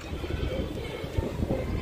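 A pigeon coos near a rooftop loft, soft low repeated coos that are faint and blended into background noise.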